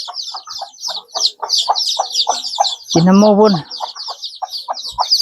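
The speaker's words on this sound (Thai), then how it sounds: "ไก่แม่ลูกลายนี่ก็ไปกินน้ำมู" Mother hen with her striped chicks heading to drink water in a rural Lao yard, chicks cheeping rapidly and continuously close by while the hen gives a brief low cluck, a short voice heard once.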